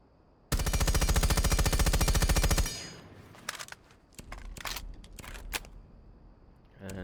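Rapid automatic gunfire with a compensator attached in Rainbow Six Siege: a loud sustained burst of about two seconds, followed by scattered shorter shots and clicks.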